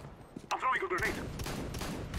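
Gunfire from the Counter-Strike: Global Offensive video game, a burst of rapid shots rattling over a noisy round with a player talking, near and loud.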